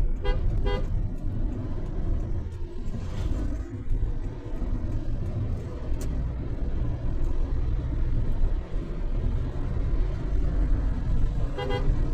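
Car horns toot at the start and again at the end over loud, constant night road traffic rumble in Dhaka.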